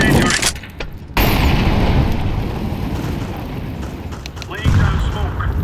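An incendiary grenade bursts into flame during a Counter-Strike 2 match. A loud, dense roar breaks off briefly near the start, then surges back and rumbles on with sharp crackles over busy battlefield noise.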